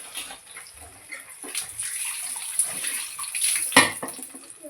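Water splashes and runs steadily while sorrel leaves for puṇḍi palya are washed in a kitchen, with a sharper, louder splash near the end and no talking.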